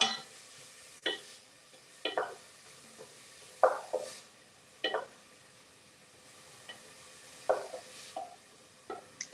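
Celery, onion and garlic sautéing in a soup pot for corn chowder, heard as soft, quiet sizzling broken by a handful of brief stirring scrapes and clinks at irregular intervals, with no talk.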